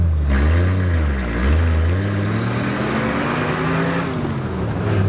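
A Jeep with leaf-spring suspension drives at speed, its engine giving a loud, steady drone that dips and rises in pitch, with continuous road noise and no talking.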